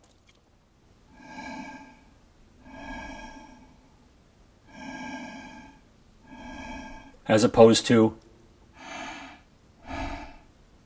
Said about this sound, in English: I listen for the tone and depth of my breath